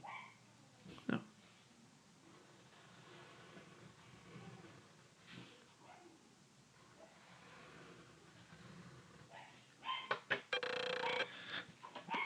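A dog in a home barks a few times at a distance, faint sharp yaps early on and a louder burst near the end, over a quiet room.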